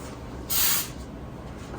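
A single short hiss of cooking spray greasing a vintage Griswold cast iron bunny cake mold, lasting about half a second against a quiet kitchen background.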